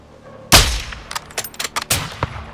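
Gunfire in Call of Duty: Modern Warfare II on PC: one loud, close shot followed by a quick scattered series of sharper cracks and a second heavy report, punchy and dry with no talk over it.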